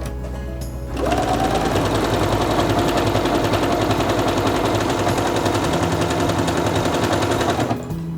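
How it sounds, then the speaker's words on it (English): A Singer Quantum Stylist 9960 sewing machine runs an elongated stitch pattern in one loud, steady, rapid, close burst lasting about seven seconds, with a rhythmic mechanical chatter. "press the button for elongation so it says ×4, and stitch again."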